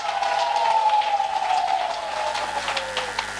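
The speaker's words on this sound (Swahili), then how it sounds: "Piga makofi mazito makubwa sana yenye nguvu" A church congregation applauds loudly during a service, a dense sustained wash of clapping with crowd noise and a faint tonal hum running underneath throughout.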